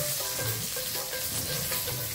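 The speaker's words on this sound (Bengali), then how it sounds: "এখন কাঁচা লঙ্কাটা ভেজে নিই।" Green chillies fry in hot oil with a steady, loud sizzle and crackle, close to the pan and continuous throughout with no talking.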